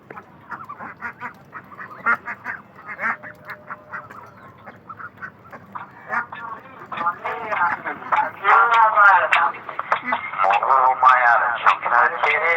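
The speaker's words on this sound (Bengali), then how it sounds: "কি কি হাঁস আছে আপনারা চিনেন কিনা?" Ducks quacking on a rainy morning, a loose run of nasal calls that builds into a dense, louder chorus of overlapping quacks in the second half.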